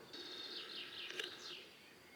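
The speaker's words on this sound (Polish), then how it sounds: "Ptaszki śpiewają." Small birds sing outdoors on a quiet mountainside, with thin high chirps and warbling phrases running continuously and faintly at a distance over soft background hiss.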